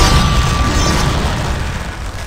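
A tower being destroyed in Heroes of Newerth, a loud rumbling explosion with a low, sustained boom that slowly fades.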